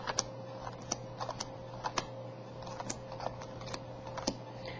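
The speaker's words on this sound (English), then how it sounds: "I'm just going to put down 3 cards on each of these" Playing cards dealt onto a table into small piles, a quick series of soft, light slaps and ticks at an uneven rhythm, close and quiet, with no talking.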